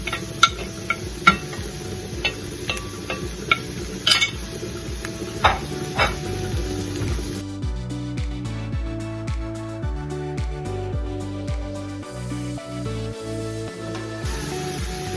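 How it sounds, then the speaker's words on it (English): Carrots, yellow, green and red bell peppers, onions and garlic sauteing in a pan, with a steady sizzle under repeated scraping and stirring clatter close by, busier and denser in the second half. "So after about 3 minutes of sauteing, I'm just gonna go ahead and just dump my ground beef"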